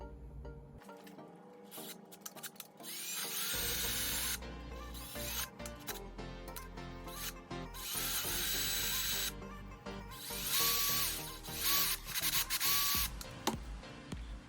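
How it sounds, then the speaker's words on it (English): A power drill with a 1/8 inch bit whirs in several bursts drilling three holes in a Jeep Wrangler tire carrier, separated by short pauses, close and fairly loud, with faint handling noises between. "drill out these 3 holes with a 1/8 inch drill bit"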